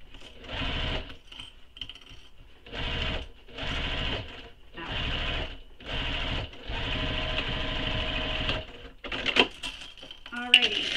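Sewing machine stitching over thin vinyl on a crossbody bag, running in five or six steady bursts of about a second each with short pauses between, close and clear, then handling noises at the end.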